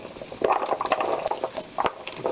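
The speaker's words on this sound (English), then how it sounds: "And now the water is boiling" Water boiling in a pot on a stove as turnips are about to be added for a French navets dish, a steady close bubbling and seething throughout with no talk.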